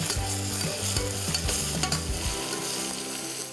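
Ginger-garlic paste sautéed in a pan with bay leaves for chicken khichdi, loud close sizzling with scraping stirs over a low hum that cuts out near the end.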